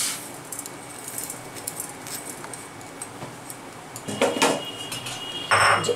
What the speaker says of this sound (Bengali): প্রথমে আমি ডালটাকে ভেজে নেব, আর কি শুকনো খোলায় ভাজবো।